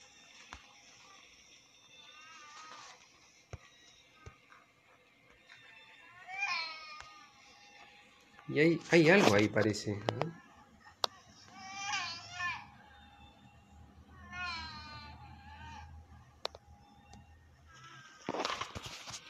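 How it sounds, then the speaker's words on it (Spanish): Eerie baby-like creature cries and whimpers in the horror game Silent Hill P.T., broken wails rising and falling in bursts, with a loud harsh outburst midway and someone speaking briefly between them. "Se sigue escuchando una criatura llorando."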